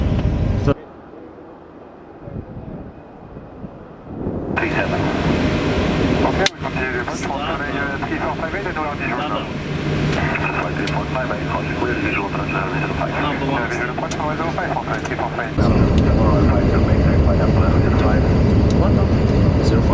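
A loud, steady roar of airliner jet engines spinning up and holding during engine start, with a rising hum and pilots talking over radio chatter throughout.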